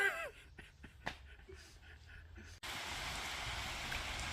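Steady rain falls outside a garage, a broadband hiss that starts abruptly and continues evenly after a few moments of quieter sounds.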